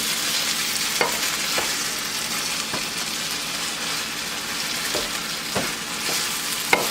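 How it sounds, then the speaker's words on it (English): Onions, mushrooms and sage sizzle steadily in a cast iron skillet while a utensil stirs and scrapes through them, with occasional sharper clicks against the pan and no talking. "And mix it up with the onions, the mushrooms, the sage."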